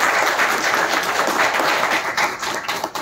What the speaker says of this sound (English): Let's have a big round of applause for Pramod.